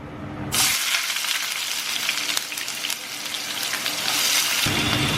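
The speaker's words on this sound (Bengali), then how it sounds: "পেঁয়াজটা প্রথমে ভালো করে আমাদের ভেজে নিতে হবে" Sliced onions hit hot oil in a home kitchen pan with a sudden loud sizzle, then keep frying in a steady bright hiss that swells again near the end.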